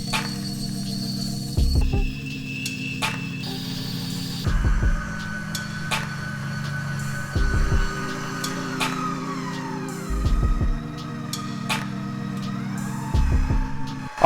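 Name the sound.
KitchenAid 5.6 quart stand mixer running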